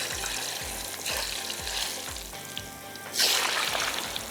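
Potato pieces sizzle in very hot oil, giving a continuous bubbling hiss with soft rhythmic thumps underneath and a sharp louder spitting surge near the end.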